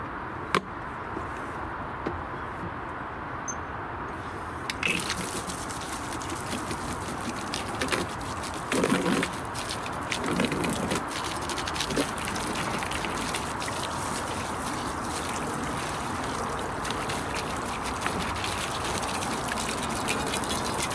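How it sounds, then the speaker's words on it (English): Water gushes and splashes steadily as a wheelbarrow and a spade are washed outdoors, with a continuous hiss and spray that shifts in strength and adds a few clunks and scrapes of the tools along the way. "go and wash the barrow and the spade and put them both away"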